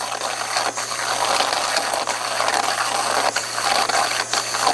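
A portable high-power broken tap remover machine, model SFX-4000B, running with a loose workhead limit stop, giving a steady buzzing, grinding mechanical drone with a constant low hum and faint rhythmic ticks.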